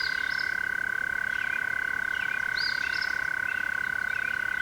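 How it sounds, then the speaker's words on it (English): American toads trilling in the Canadian wilderness, a steady sustained chorus of high continuous trills with a few sharper chirping calls rising above it, moderately loud and unbroken throughout. "about a week or two later, you'll start hearing the American toads around this area."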